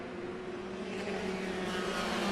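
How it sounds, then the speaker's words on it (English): Pack of 125cc racing motorcycles accelerating uphill at Brands Hatch, a dense, rising engine roar that grows steadily louder with a continuous whine, no distinct voices. "They're accelerating up the hill here as they come to the fastest part of the circuit."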